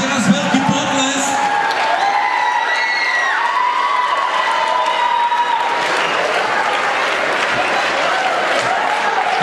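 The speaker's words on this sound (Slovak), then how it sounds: "ešte raz veľký potlesk" A crowd applauds after a mothers' stage performance, the clapping loud and sustained with some cheering and whoops, partly under an announcer's voice.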